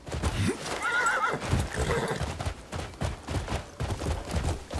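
A horse in the video game Crimson Desert gives a loud whinny, followed by rapid rhythmic hoofbeats of galloping close by, with no talk over it.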